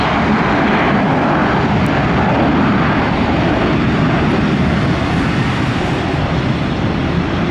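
An Airbus A321 jet airliner arriving from Philadelphia roars past at Tampa airport, a loud, steady engine rumble and whine that fills the whole stretch without letting up.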